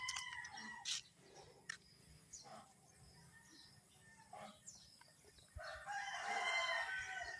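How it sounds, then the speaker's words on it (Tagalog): Chickens cluck now and then at a distance, then a rooster crows loudly and at length, over a quiet outdoor background. "May mga manok pa kasi maaga pa naman."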